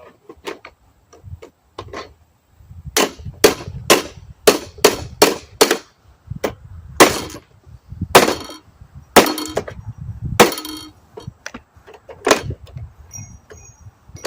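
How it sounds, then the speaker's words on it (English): Sharp metallic blows from a claw hammer striking a Craftsman lawn mower axle land in irregular bursts, loud and close, with short pauses between clusters of hits. "This is the part where you then take your claw hammer"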